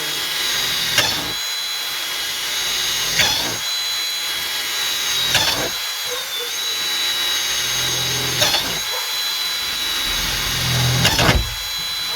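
A power drill whines steadily while boring holes in plastic inside a van, with several short bursts of louder grinding as the bit bites through, repeating every few seconds.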